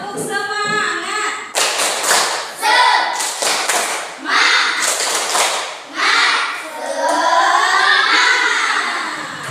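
Indonesian schoolchildren in a classroom do a rhythmic tepuk semangat clap-and-chant, with bursts of clapping mixed with loud children's voices chanting throughout.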